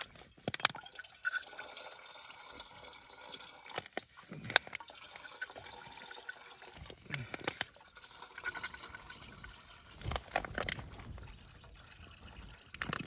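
Water is poured from a pouch into a camping stove pot at a winter wild camp in the Coniston Fells, heard as irregular trickling, splashing and dripping with a few louder knocks.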